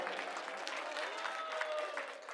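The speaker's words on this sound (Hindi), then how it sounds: "इसके लिए ताली बजा दो एक बार।" An audience at a political rally in Janakpuri, Delhi, bursts into brief, dense applause, a steady crackle of many hands clapping together at moderate distance.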